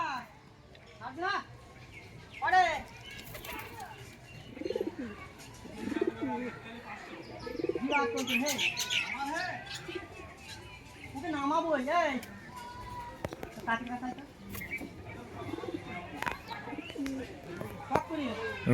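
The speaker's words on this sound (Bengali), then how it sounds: "পায়রাটা এখানে বসে আছে সেই থেকে বসে আছে" A pigeon perched in a village yard coos in short repeated bursts mixed with chirps from other birds, moderately close, while someone talks over much of it.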